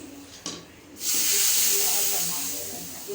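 Hot tadka tempering poured into cooked moong dal, bursting into a loud, sustained sizzle after a quiet moment and a small clink, then hissing steadily and slowly easing.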